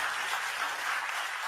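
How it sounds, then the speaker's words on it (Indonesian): Congregation applauding during a church service, a brief burst of loud, dense clapping heard close and continuous. "tepuk tangan buat Tuhan Yesus"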